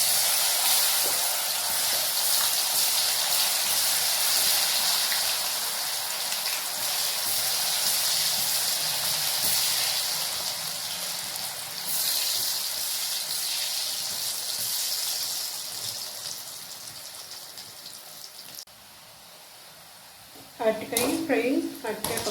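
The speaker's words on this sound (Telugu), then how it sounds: "అరటికాయ పకోడా ఫ్రై అయిపోయింది." Raw banana pakoda frying in hot oil, a dense continuous hiss and sizzle held steady at close range, easing off near the end before a few clattering handling sounds.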